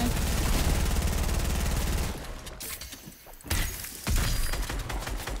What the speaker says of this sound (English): Oh, I got the drum gun.